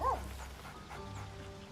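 Scratch, a dog in Baldur's Gate 3, gives a brief high whimper at the start, followed by quiet ambient game sound.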